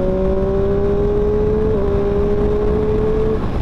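Triumph Street Triple 765 RS motorcycle engine holding a loud, steady drone with a slowly falling tone, running continuously close by with no talking.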